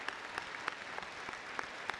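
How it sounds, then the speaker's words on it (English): A university commencement audience claps in a soft, steady patter of applause, faint and distant, with a few sharper individual claps standing out. "One more round of applause for Dr."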